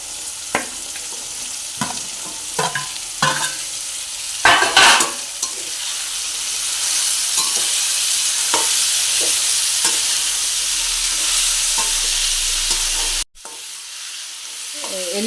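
Golden onions and chickpeas fry in a pan with a steady, close sizzle while a spoon stirs and scrapes, giving a few sharper clinks early on before the frying settles into an even hiss; a brief cut comes near the end.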